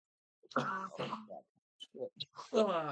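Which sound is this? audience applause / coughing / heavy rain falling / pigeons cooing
coughing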